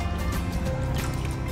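A little water is poured into a pan for a strawberry sauce, giving a brief, close, continuous splashing and trickling.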